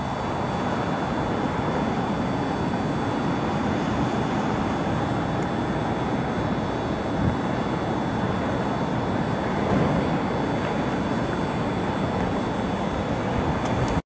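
An American Airlines Boeing 737 jet arriving from Miami on a busy holiday weekend at Cleveland Hopkins Airport gives a steady, moderate engine roar that holds at an even level throughout, heard alone without voices.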